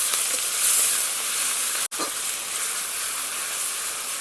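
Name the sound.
onion paste sizzling in hot caramelised sugar and oil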